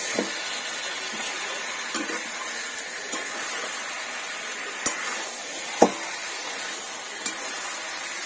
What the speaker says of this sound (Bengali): এটা কিছুক্ষণ কষাতে হবে, তাই তো? এটা কষিয়ে আলুটা দিতে হবে।